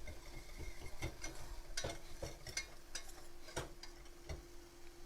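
Food being stirred in a pan, a series of irregular scraping clicks and taps of a utensil against the metal over a soft, low sizzle.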